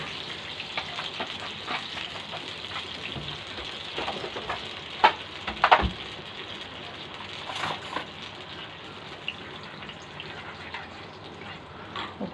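Vinegar and tomato paste bubble and sizzle in a pan over golden fried garlic for Egyptian koshari sauce, a steady close hiss with a couple of sharp clinks midway.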